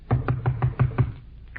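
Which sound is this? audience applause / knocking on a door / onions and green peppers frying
knocking on a door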